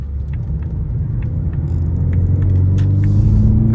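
A 2026 Ford Mustang EcoBoost with its exhaust in track mode, taking a corner: a loud, steady engine and exhaust rumble heard from inside the car, swelling slightly as it revs and downshifts, with no talking.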